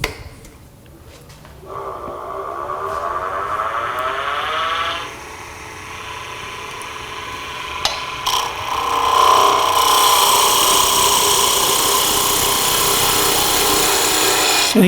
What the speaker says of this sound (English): I'm just going to use this continental type gouge and just hog away some of this wood